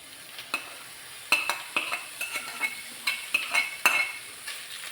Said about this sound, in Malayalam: ഇതിലേക്ക് നമുക്ക് മുള്ള് കളഞ്ഞ് വെച്ചേക്കുന്ന മത്തി ഇട്ട് കൊടുക്കാം.